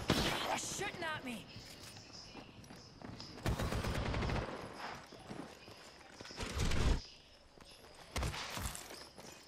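Bursts of rapid gunfire in the Apex Legends shooter game, loud clusters of shots that break off and resume several times, mixed with footsteps and a voice talking.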